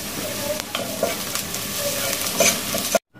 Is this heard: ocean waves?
no